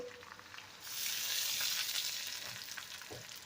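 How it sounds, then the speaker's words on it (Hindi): Steady sizzling of onions browning in a hot frying pan, swelling louder after the first second and continuing with a constant crackle, close and alone. "ये देखें व्यूअर्स, अब प्याज ब्राउन होना शुरू हो गया।"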